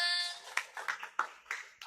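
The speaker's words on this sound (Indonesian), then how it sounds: "Boleh tepuk tangannya teman-teman" A small group at a mock press conference gives sparse applause, several separate, fairly close claps spaced across two seconds after a faint tone.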